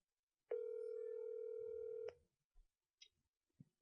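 Phone dial tone heard over a speakerphone, a single steady tone lasting about a second and a half, then cut off, followed by faint clicks and soft handling noises.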